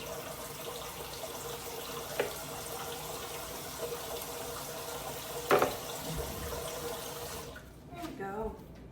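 Water runs steadily from a kitchen tap, a close, even hiss with a couple of brief clunks, then cuts off shortly before the end.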